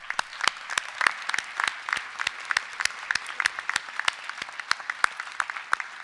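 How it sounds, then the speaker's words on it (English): Applause rings out at a university winter graduation ceremony, a steady stream of sharp individual claps from a modest crowd lasting several seconds. "So a big round of applause for those colleagues here today"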